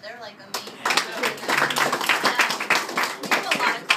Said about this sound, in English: We have a lot of clapping.